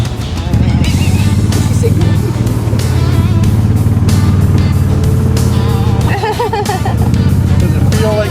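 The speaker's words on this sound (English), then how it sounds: "Go drive the golf cart" Golf cart being driven around the North Dakota Badlands, a steady loud motor drone with rattling and wind, while several people talk and laugh over it.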